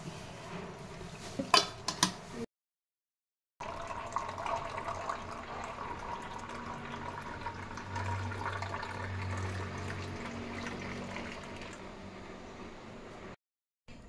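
Beetroot, carrot and mint juice is poured through a juice strainer, giving a steady, soft liquid trickle and splash heard close up for most of the stretch, with a brief gap of silence and no talking.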